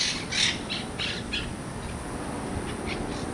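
Wild parrots squawk outdoors in light wind, a series of harsh repeated calls, loudest at the start, then fading to fainter squawks.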